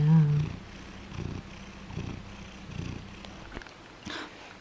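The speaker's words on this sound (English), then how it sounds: "Hope you can hear how loud his purse are." Pet cat purring loudly and close, a low rhythmic rumble pulsing about once per second, with a brief voice at the start and a soft clatter near the end.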